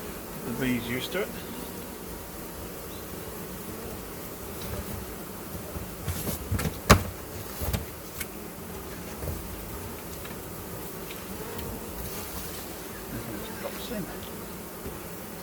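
A steady swarm hum from honey bees at an open Flow Hive being inspected, constant and close for the whole stretch, broken by a sharp clack midway and a person speaking now and then.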